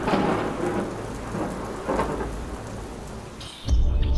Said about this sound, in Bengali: সন্ধ্যায় হঠাৎ আকাশ কালো হয়ে আসে ঝড় বৃষ্টি নামে বজ্রপাত হয়